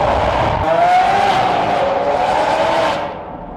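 A Lamborghini Aventador Liberty Walk widebody with a rose gold titanium exhaust roars loudly and close, the engine note rising and holding before dropping away near the end.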